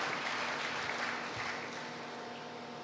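A church congregation applauds together at a service, a dense, steady wash of clapping that eases off slightly toward the end, with no voices standing out.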